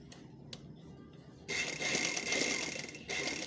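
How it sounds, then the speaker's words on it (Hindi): A sewing machine stitches the corner of a lining strip on a lined kameez. Faint handling noises come first, then a steady, close mechanical whir runs for about two seconds, pauses very briefly, and starts again. "अब हम इसके कॉर्नर के इस पूरे इस पट्टी के कॉर्नर पे हमने सिलाई करनी है।"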